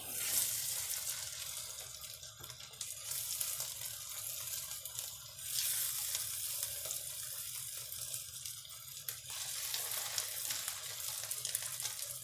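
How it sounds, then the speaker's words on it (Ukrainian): Pumpkin potato pancakes with bacon fry in a pan over medium heat, giving a steady, close hiss and sizzle that runs unbroken with no talk. "І ще жаримо півтори-дві хвилинки."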